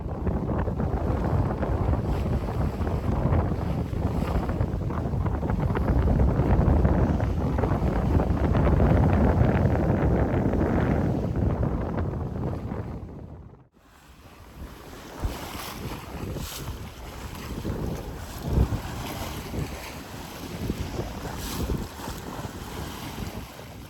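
A sailboat reefed down and making about 5.5 knots in 13 to 14 knot winds while crossing the English Channel, with steady loud wind rush and sloshing waves against the hull, a brief dip mid-way, then choppier splashes and gusts.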